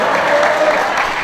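Clapping from a crowd gathered inside a mosque after Eid al-Adha prayers in Tonjong village, dense and steady, filling the whole brief moment.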